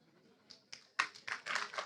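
An audience breaks into clapping at a Hindi religious sermon, starting with a few scattered claps and swelling into fuller applause over a couple of seconds; fairly faint.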